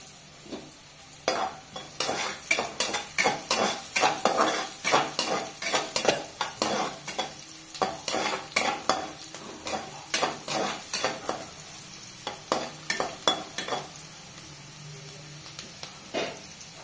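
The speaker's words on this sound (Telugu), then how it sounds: "కలుపుతుంది ఇప్పుడు. సో రెండలా మంచిగా వేగుతూ" Carrots and beans frying in a pan for homemade upma, stirred with a spoon in quick repeated scraping strokes over a steady sizzle, close and fairly loud, with short pauses between bursts.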